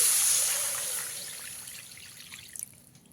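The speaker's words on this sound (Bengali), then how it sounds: "এবারে আমি এখানে দিয়ে দিচ্ছি পরিমাণ মতন জল দিয়ে দিচ্ছি" Water is poured into a pan of Bengali pabda fish tel jhal curry masala, a close, steady trickling splash that fades over a few seconds, with faint clinks near the end.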